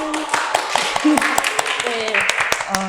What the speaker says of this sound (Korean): 여기서 박수를 쳐주시니까